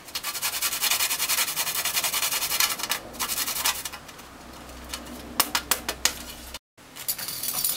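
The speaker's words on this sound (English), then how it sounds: "Grate the nutmeg." Nutmeg is grated by hand for Jamaican banana fritters, giving close, raspy scraping strokes in a quick repeated rhythm that slows into a few separate rubs near the end, with no talking.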